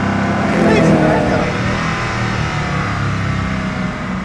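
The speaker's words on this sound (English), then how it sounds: "So that's the Agera R on a track." Koenigsegg Agera R supercar on a track, its engine a loud, steady roar that swells briefly near the start and then holds at a high, continuous level.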